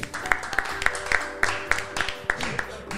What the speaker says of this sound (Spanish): Fuerte el aplauso para Skeptic